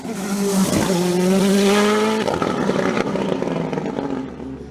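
A Norma M20 FC 2-litre race car engine screams close by on a hill climb, revving high and rising in pitch, then shifts and roars on with a rough, fading snarl.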